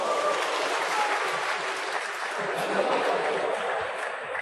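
Applause from a large crowd at an international championship snooker match, sustained clapping filling the hall at an even level throughout.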